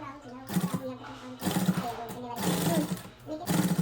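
A sewing machine stitches lace onto a suit neckline in bursts of whirring that start and stop, mixed with a voice talking throughout.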